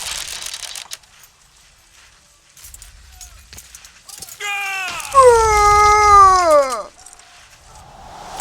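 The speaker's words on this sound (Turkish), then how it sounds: "Köpekler." Dogs howl in The Witcher 2, a cluster of layered, wavering howls rising and falling for about two seconds, after quieter game sounds and voices.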